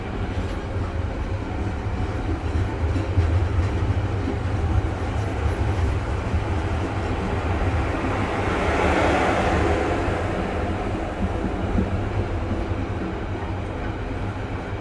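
A local train hauled by a CC206 diesel locomotive rumbles past in Indonesia, a continuous heavy rolling roar that swells toward the middle as it comes closest, then holds steady.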